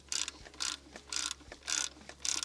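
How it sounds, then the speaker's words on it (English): A hand ratchet winds bolts to draw a Citroen C4 VTS gearbox into place, with five quick, evenly spaced bursts of close clicking in a steady rhythm. "start winding the gearbox in by ratcheting them side by side"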